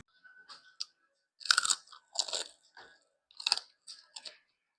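Several crisp, crunchy bites of fried pork belly (lechon kawali) and chewing sounds, close and quiet, in short bursts with pauses between them.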